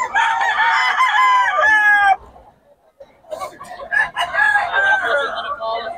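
Gamefowl rooster for sale crowing twice nearby, each long drawn-out call broken by a short pause, with faint background chatter.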